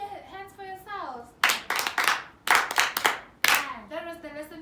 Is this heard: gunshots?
no